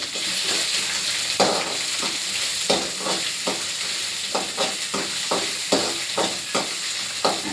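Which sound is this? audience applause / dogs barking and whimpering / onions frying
onions frying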